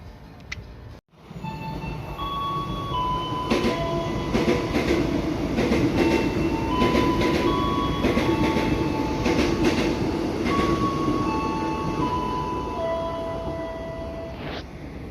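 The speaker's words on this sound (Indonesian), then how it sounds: "Kereta api yang kita maksud sudah nyampe, kita siap-siap masuk ke dalam peron stasiunnya." A train pulls into an Indonesian railway station near Tanah Abang, its loud steady rumble and rattling wheels rolling past close by, with clicking rail joints and thin squeals from wheels and brakes over about fifteen seconds.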